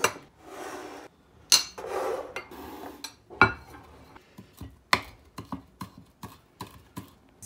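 Spruce shoots being cut with a knife on a board, giving a series of short, crisp cutting and scraping strokes at an uneven pace, close by and fairly quiet, with no one talking.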